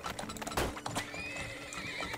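Horse neighing and clip-clopping hooves from the video game Turmoil, with a loud whinny rising midway over a steady patter of hoof clops and game ambience.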